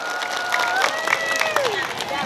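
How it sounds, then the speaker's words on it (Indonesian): A crowd at a Sundanese Maulid sermon in Kampung Cukanggali bursts into spirited clapping and cheering, dense and close, with voices calling out over the applause. "Berikan tepuk tangan yang semangat untuk para panitia di Cukanggali."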